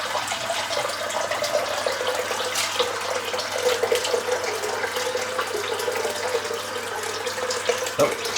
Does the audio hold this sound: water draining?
yes